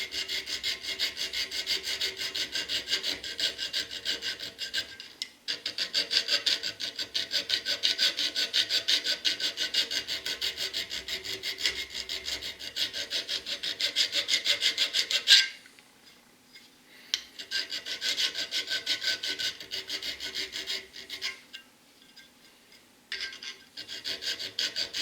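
A hand file rasps rhythmically across a knife spine to cut a rope pattern, fast steady back-and-forth strokes close up, with a couple of short pauses between runs and no talking.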